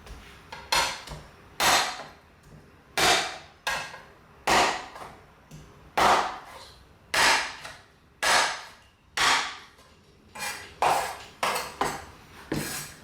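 Knife blade pressed down on garlic cloves to smash them flat, producing a series of about fifteen sharp, close thuds and cracks at an irregular pace on a cutting board, with no talking.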